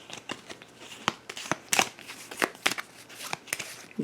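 A deck of game cards for a tabletop session is shuffled nearby in quiet, irregular bursts of riffling and snapping over about four seconds.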